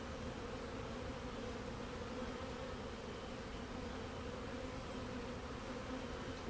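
A large honeybee swarm buzzes in a dense, steady drone, close and constant with no pauses or voices.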